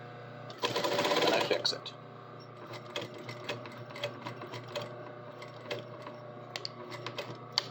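A sewing machine stitching the bottom of a garment front pocket, one short loud burst of rapid stitching followed by quieter clicks and handling taps, with a voice speaking briefly.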